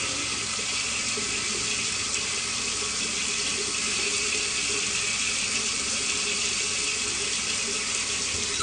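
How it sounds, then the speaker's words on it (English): A bathroom tap runs steadily into a sink while someone rinses off after a shave, a continuous even hiss of flowing water, close and unbroken throughout. "Just gonna rinse off really quick."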